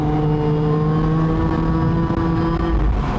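A 2004 Porsche 911 Turbo Cabriolet with a manual gearbox accelerates hard, its engine holding a loud, steady, rising tone up close with no talking.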